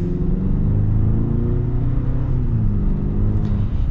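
A 2023 Chevy Silverado 1500 Rally Edition pickup with the 2.7 turbo engine accelerates, heard from inside as a steady low rumble and whir that rises in pitch, with no talking.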